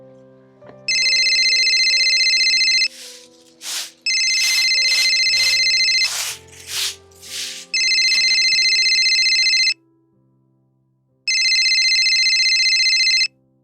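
A telephone ringtone plays in several loud bursts of electronic tones, close to the listener, with short pauses between them. Brief voices and other sounds break in between the rings.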